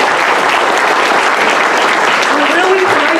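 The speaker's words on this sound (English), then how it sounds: "Can we have a round of applause for Dr." Loud, sustained applause fills a lecture hall at a community talk on a Hudson River eel conservation project. The clapping is thick and even throughout, with a faint voice underneath.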